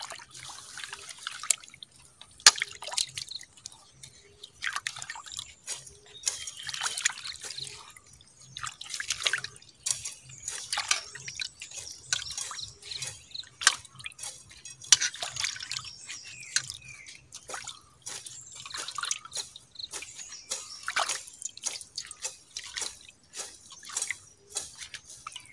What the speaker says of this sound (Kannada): ಮೊದಲಿಗೆ ಅದನ್ನು ನೀರಲ್ಲಿ ಹಾಕಿ ಚೆನ್ನಾಗಿ ತೊಳ್ಕೊಳ್ಬೇಕು